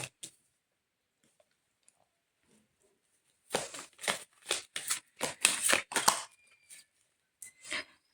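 A deck of cards being shuffled in a quiet room: after a few faint ticks, a rapid run of crisp riffling bursts follows, close and fairly soft, with no voices.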